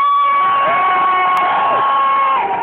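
A live concert crowd in Athens shouts and cheers loudly and continuously, with whoops and high voices rising over a dense wash of noise, close and sustained throughout.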